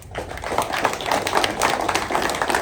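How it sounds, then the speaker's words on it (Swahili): Applause for a bishop at a church gathering, a steady patter of many hands clapping together, fairly close and continuous for a couple of seconds with no talk. "makofi tena ya kutosha kwa Bwana Askofu"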